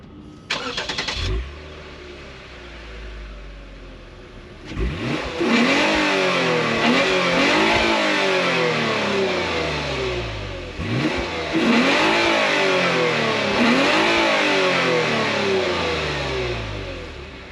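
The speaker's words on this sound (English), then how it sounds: "this IS 350 makes a really good exhaust note" A 2023 Lexus IS 350 F-Sport AWD sedan's V6 cranks and fires up, then is revved hard several times, each sharp climb in pitch falling back toward idle, loud and close with no talking.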